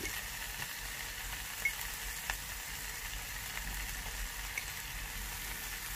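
Vegetables stir-fry in a pan with two spoons of soy sauce, giving a steady, moderate sizzle with a few faint clinks of stirring.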